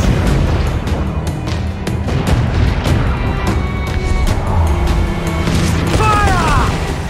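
Ship cannon fire from a naval battle in Assassin's Creed IV Black Flag, loud booms and bursts repeating through a dense, continuous din of battle noise.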